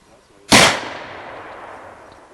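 A black powder rifle fires once at a squirrel target in the woods, a sharp loud crack followed by a long fading rumble and echo through the trees.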